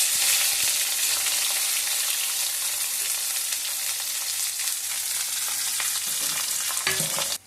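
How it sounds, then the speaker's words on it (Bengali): Chopped onion fries with spices and a pinch of salt in hot oil, a loud steady sizzle with scattered crackles, stopping abruptly at the end. "পেঁয়াজটা ভাজার সময় আমি একটুখানি নুন দিয়েছিলাম"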